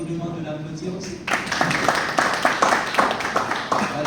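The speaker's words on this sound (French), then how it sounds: "je vous demande de l'applaudir aussi" Audience at a contest ceremony breaks into applause for a laureate, clapping starting abruptly after a brief lull and continuing steadily, moderately loud with background murmur.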